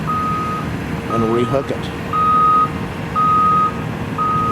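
A dirt truck at a construction site for a water recycling facility sounds its reversing alarm, a steady series of evenly spaced loud beeps, with someone speaking briefly over the start.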